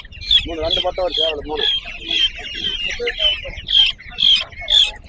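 Guinea fowl give a rapid series of harsh, rhythmic clucking calls, close and loud, with a voice speaking briefly near the start.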